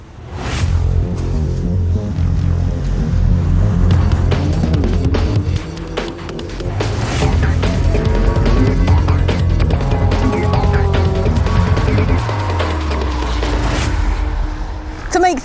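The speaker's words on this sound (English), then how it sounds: "We've got very loud cars running past" Loud race cars pass on the track at Goodwood Motor Circuit, a continuous roaring engine drone with a rising and falling pass-by near the end, heard close and strong throughout.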